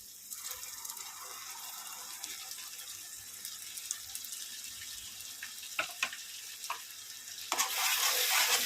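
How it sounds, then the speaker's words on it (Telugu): Ginger garlic paste frying with tomatoes in a pan for chicken curry, a soft continuous sizzle with occasional spoon scrapes, swelling into a louder, brighter hiss at the end. "ఇప్పుడు మనం ఇందులోకి అల్లం వెల్లుల్లి పేస్టు దంచుకున్నది వేసుకుందామండి"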